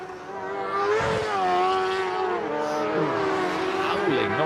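A four-cylinder racing sidecar engine at Thruxton howls loudly and continuously, its revs climbing and dipping as the rear wheel lifts and spins up during the British Sidecar championship.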